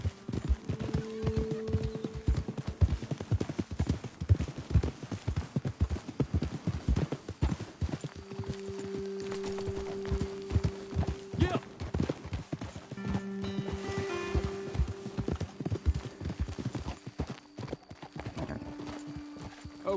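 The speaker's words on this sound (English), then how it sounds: "Best leave the horses back a bit." Horse hooves clip-clopping steadily on a trail in the video game Red Dead Redemption 2, a continuous rhythmic beat of several horses with occasional whinnies and background music tones.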